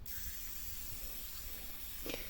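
A garden sprayer hissing as it sprays tomato plants, one continuous airy hiss that holds steady through the clip, with a faint bump of other noise near the end and no talk.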